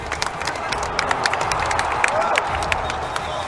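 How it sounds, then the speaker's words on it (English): An audience claps at a Gundam Versus fighting game tournament grand final: steady scattered clapping over a dense, noisy crowd din, with sharp individual claps standing out. "we're clapping"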